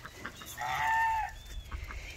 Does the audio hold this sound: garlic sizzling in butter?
no